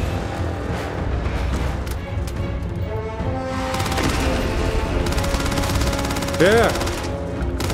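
Gunfire and combat clatter in the sci-fi video game Starfield as fighters battle each other, dense and continuous with game sounds over a steady bed, while a player speaks briefly.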